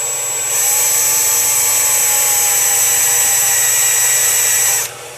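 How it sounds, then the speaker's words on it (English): A power drill runs steadily for about four seconds, boring a divot into a 3D printer bed at a slow speed, with a whining tone that stops abruptly near the end. "And yes, I should be drilling"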